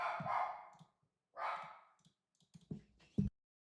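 A neighbour's puppy barks in a few short, sharp yelps, with two louder barks near the end, faint against a quiet background with brief clicking in between.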